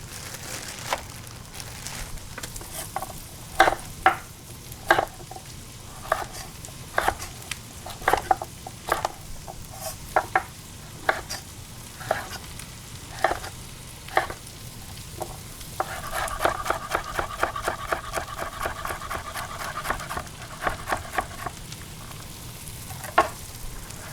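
Mushrooms and carrots fry in a hot pan during rice cooking, a steady sizzle under repeated scraping and clicking stirs, with a denser burst of sizzling and stirring toward the end; no speech.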